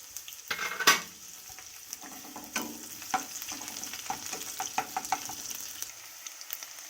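Chopped onion, green chillies and panch phoron fry in a pan while being stirred for a kochu greens dish, giving a soft continuous sizzle with scattered utensil scrapes and taps, close and unaccompanied by speech.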